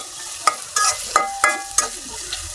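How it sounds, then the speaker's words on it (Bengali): Beef pieces frying lightly in a pan for a taro-and-beef curry, with several sharp scraping stir strokes at a steady pace over a soft continuous sizzle, close by. "হালকা একটু ভাজবো।"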